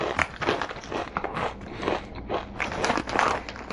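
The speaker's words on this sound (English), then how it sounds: "Good crunch." Kettle-cooked potato chips crunch loudly and up close in a steady run of crisp, crackling bites, with no talking over them.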